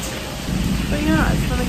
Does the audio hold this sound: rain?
yes